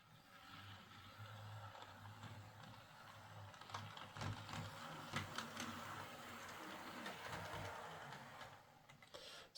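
A small model train locomotive runs along a DC shuttle track, giving a quiet, steady mechanical whirr with light rhythmic clicking and ticking from wheels and gearing, faint and close.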